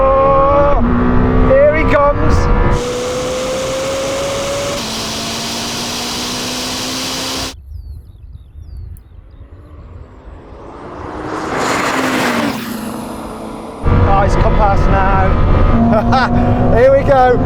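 Lamborghini Temerario and Ferrari SF90 supercars drag racing: loud engines rev with steadily rising tones, a clear gear change, then a roaring pass-by that swells and fades, with people talking over much of it.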